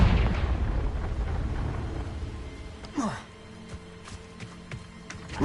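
A Confringo blasting spell goes off in the Hogwarts Legacy video game, a deep booming explosion with a rumbling tail, followed by a sharper blast midway and a few lighter pops and crackles afterward.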